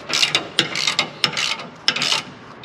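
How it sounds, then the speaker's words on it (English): A 14 mm ratchet wrench works on a truck's spring setup underneath the vehicle, producing a loud, close series of rapid ratcheting clicks in several quick bursts with short pauses between strokes. "So apparently you're supposed to put a ratchet on this end right here, 14 millimeter"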